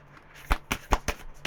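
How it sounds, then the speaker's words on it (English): Tarot cards riffle in a handful of quick, crisp bursts, close by, with soft rustling between the sharper snaps. "your cards are not shuffling properly here"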